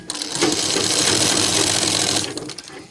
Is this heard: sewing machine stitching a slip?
yes